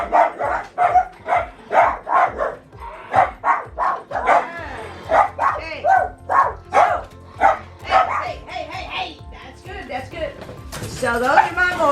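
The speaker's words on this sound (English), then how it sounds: "I've got Nellie, that's Nellie in the window, barking her inside stuff." A dog barks repeatedly from inside at a house window in short, regular bursts, fairly close, with a voice talking faintly underneath and some other background noise.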